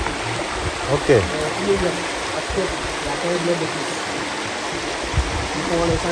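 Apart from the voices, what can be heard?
waterfall at Dindefelo, Kédougou, Senegal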